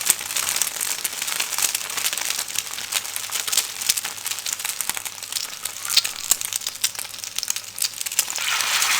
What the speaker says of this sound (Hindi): अब अंडे में हम डीप करके इनको फ्राई करेंगे